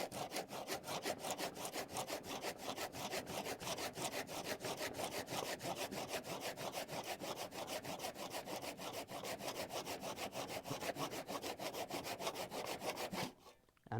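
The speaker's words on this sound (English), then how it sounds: "I'm gonna let the saw do the work. See the saw down and just cut that in that groove." A hand saw cuts timber in a new miter box, with fast, even rasping back-and-forth strokes that continue for about thirteen seconds and then stop abruptly.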